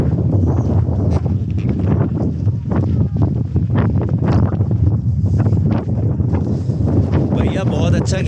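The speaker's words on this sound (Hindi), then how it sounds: "ऐसी बर्फ वाली हवा चल रही है क्योंकि स्नो है" Icy wind gusts across the snowy summit of Mammoth Mountain at about 11,000 feet, buffeting the microphone in a loud, continuous roar under talking voices.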